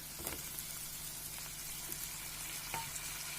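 Tomatoes and chilies frying in a pan give a steady, quiet sizzle with faint crackles and a few soft stirring ticks, with no voices.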